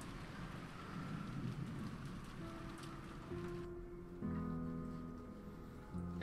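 Steady downpour of rain from the Umineko visual novel, a dense continuous wash with low rumbling underneath and sustained musical tones rising in the background.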